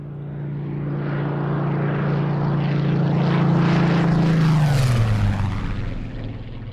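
A Spitfire Mark 14 fighter plane with a Rolls-Royce Griffon engine flies past, its propeller drone swelling to a loud peak and then dropping in pitch as it recedes, with no other sounds.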